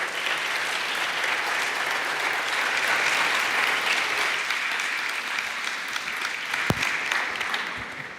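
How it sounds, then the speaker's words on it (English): An audience at the historic City Hall of Aachen applauds the Lady Mayoress as she comes on stage for the Charlemagne Youth Prize ceremony, a broad, even wash of clapping from a large crowd with one sharp knock near the end. "Please, let's give her a round of applause."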